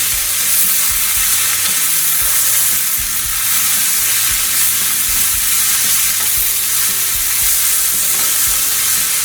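Bacon and radicchio fry in a pan on the stove, a loud, continuous close sizzle and crackle with faint scraping stirs underneath and no voices.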